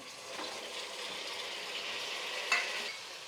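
Tomatoes fry in oil in a pan for masala tomato rice, giving a soft, even hiss with a faint stirring scrape and one brief louder clatter partway through.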